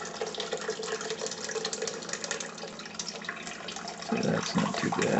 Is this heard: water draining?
yes